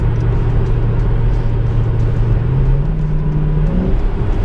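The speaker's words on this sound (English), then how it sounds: "And just give her a slow acceleration. Not a lot, just slow." A 2013 Chevrolet Camaro ZL1 pulls slowly in fourth gear, its deep, steady exhaust drone rising gently in pitch over several seconds of loud, continuous engine rumble, with no talking.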